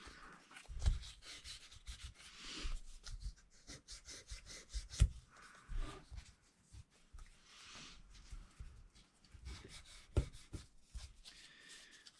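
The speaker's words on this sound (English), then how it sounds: "And running out of decent sandpaper here." Sandpaper rubs back and forth on the wooden neck of a cheap kit guitar, a close, soft, rhythmic scratching in uneven strokes with short pauses between passes.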